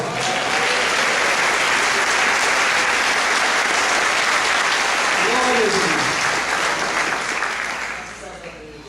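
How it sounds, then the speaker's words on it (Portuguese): A church congregation applauds steadily for several seconds, a dense loud wash of clapping that tapers off at the end, with a voice speaking over it midway. "Você pode aplaudir o Senhor."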